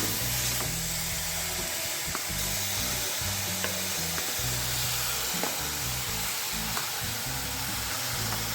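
Dill leaves frying in a pan for dill leaf chutney, giving a steady, close sizzle with light scraping and stirring throughout, no voices.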